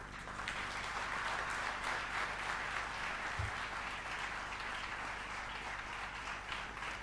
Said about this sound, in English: let us all give a big round of applause to them.